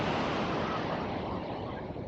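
Ocean surf at Sheringa Beach on a tidal stretch of coast: a broad, continuous wash of breaking waves, loud and steady throughout, with some wind rumbling across the microphone.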